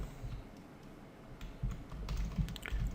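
Quick, uneven keystrokes clatter on a computer keyboard while code is typed, close and fairly soft, with short pauses between bursts and no voice.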